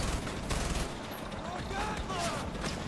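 Sustained machine gun fire rattles in rapid bursts during a Far Cry 4 prison escape firefight, loud and dense throughout with overlapping shots and brief whistling tones.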